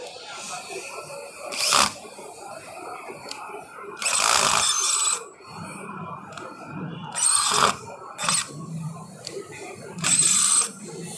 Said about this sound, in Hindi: कितने भी टाइम्स हम स्क्रू को करते हैं और फिर निकाल के देखते हैं कि लूज़ तो नहीं पड़ रहा है